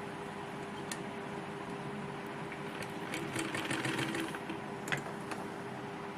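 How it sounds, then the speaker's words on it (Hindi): A sewing machine sews a firm seam on a lined kurti with a steady, fairly quiet mechanical hum and faint ticking throughout, without speech. "पक्की सिलाई लगाएंगे।"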